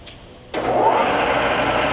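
A Lagun FVA-5LA milling machine spindle is jogged on, starting with a sudden onset and settling into a steady, close, broad mechanical hum and whir that holds for the rest of the clip.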